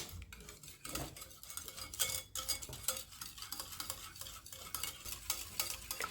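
Homemade lemon cream being stirred in a pot, a steady run of scraping, clinking strokes with light sizzling texture, close and moderately loud, no voices.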